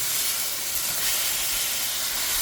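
A ribeye steak searing in a hot pan sends up a loud, dense, continuous sizzling hiss that holds steady throughout, with no voices.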